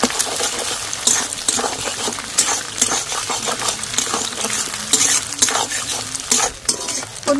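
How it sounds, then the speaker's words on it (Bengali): Eggs scrambled and fried in a generous amount of oil in a wok for chicken fried rice, sizzling steadily while a spatula stirs and scrapes, with occasional light metallic clinks. "ডিমটা এইভাবে ফাটিয়ে ঝুরঝুরে করে ভেজে নেব। আর ডিম ভাজার সময় কিন্তু একটু তেলটা বেশি দিতে হবে।"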